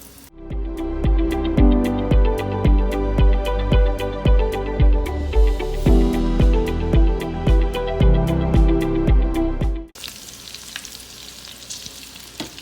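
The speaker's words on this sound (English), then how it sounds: "Once the oil is hot, you start frying the olives in it." Stuffed olives sizzle and fry in hot oil, a dense bubbling crackle with regular tapping knocks as they are stirred and turned, loud and close before easing off.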